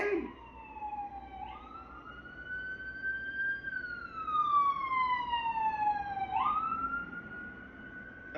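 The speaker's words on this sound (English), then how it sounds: "that was an ambulance that just drove by" An ambulance siren passes by at a distance, wailing up and down against faint background rumble before trailing off.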